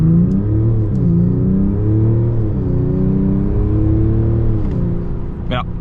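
A 2025 Mercedes E 450d, a 390 hp diesel, accelerates hard on a flat stretch near the Autobahn, a steady loud engine drone rising in pitch through the gears. Speech is also present.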